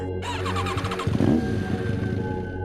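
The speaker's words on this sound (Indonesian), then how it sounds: "Motor kembali dicoba dinyalakan, tapi sama saja." A motorcycle engine cranks and sputters without catching, a steady mechanical whir with a rough surge in the middle, close by.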